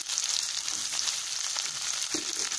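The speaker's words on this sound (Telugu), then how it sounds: "ఈ రెండు కూడా మనం ఫ్రై చేసుకుందాం." Cabbage and carrot fry with onions in a pan for veg noodles, a steady close sizzle with faint stirring scrapes, no voices.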